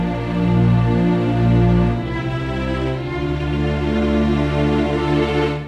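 Layered orchestral strings in Logic Pro blend muted con sordino sustained notes with a tremolo line on top, a rich sustained chord that shifts once or twice, loud and alone.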